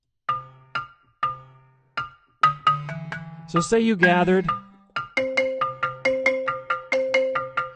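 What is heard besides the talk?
balafon, wooden xylophone-like instrument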